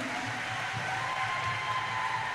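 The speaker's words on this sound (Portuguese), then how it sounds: "Dá uma salva de palmas para essa jovem aqui" Steady applause from an audience rises for a young woman in a church gathering, a dense, even clapping that holds at moderate volume throughout.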